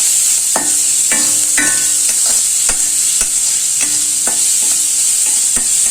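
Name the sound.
shallots and garlic sautéing in a pan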